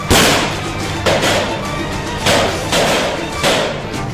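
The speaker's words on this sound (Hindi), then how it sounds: "उधर राइफल फायर होती है" Rifle shots ring out during NSG commando training around a building, several sharp cracks spaced roughly a second apart, loud and close, each ending in a short burst of noise.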